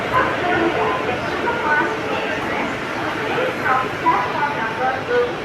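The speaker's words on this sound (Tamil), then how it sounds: "ட்ரெயின் வந்துருச்சு, நம்ம போய் ஏறுவோம்." A train pulls into a platform at Tambaram railway station amid a dense, steady wash of rumbling noise, with a busy crowd's voices blending into the din throughout.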